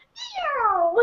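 A single drawn-out cat meow, falling slowly in pitch, close and fairly loud, with no other sounds around it.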